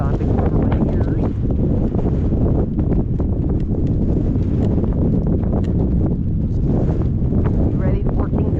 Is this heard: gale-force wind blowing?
yes